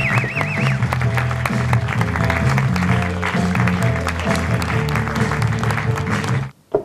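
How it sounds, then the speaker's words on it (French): Spectators applaud the podium finishers of the Raid 28 Panards 2013 race, with steady clapping over low, sustained music before the sound cuts off abruptly at the end. "Pour cela, on les applaudit pour le Panard des belles places."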